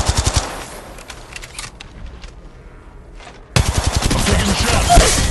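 Rapid automatic gunfire in Apex Legends, loud bursts at the start, a quieter stretch with scattered shots, then a dense sustained volley through the final seconds.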